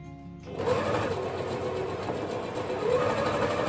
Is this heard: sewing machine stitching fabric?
yes